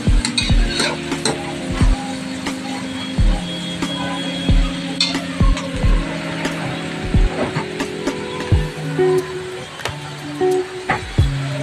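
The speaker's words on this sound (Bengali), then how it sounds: "পেঁয়াজগুলো ভালো করে ভেজে নিই।" Onions fry in a pan while a spoon stirs them, making repeated scraping and clanking strokes over a steady low sizzle, loud and close, with no speech.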